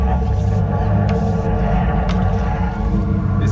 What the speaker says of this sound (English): I can hear it gurgling.